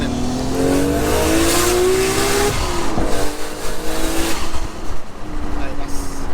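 A Nissan GTR R34 with an 800 bhp 2.8-litre stroker engine accelerates hard from inside the car, its engine note climbing loudly through the revs with a shift partway, while occupants talk over the roar.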